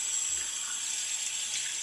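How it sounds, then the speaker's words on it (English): Water running from a tap while a face is washed off after a shave, a steady soft hiss of flowing water continuing evenly throughout. "Go ahead and get the face washed off."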